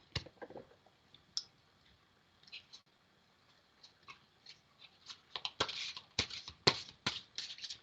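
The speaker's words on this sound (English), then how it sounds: "Let me shuffle these up." Oracle cards are handled and shuffled by hand, starting with sparse soft clicks and taps, then building into a dense run of crisp riffling snaps, close and quiet with no talk.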